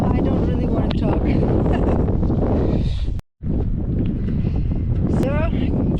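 Strong wind buffets the microphone during a cold run across Kansas, a steady loud roar with a brief dropout midway.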